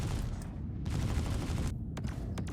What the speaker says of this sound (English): So first I'm going to shoot lasers.